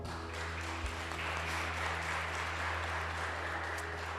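Church congregation applauding during a sermon, a steady, continuous wash of clapping heard alone over a low hum for several seconds.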